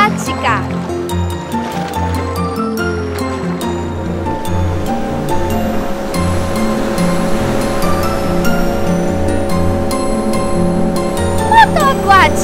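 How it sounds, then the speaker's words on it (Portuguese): Jet ski in a children's animated sports cartoon, its whining motor tone riding over continuous rushing waves and splashing water, with voices talking over it. "Moto aquática!"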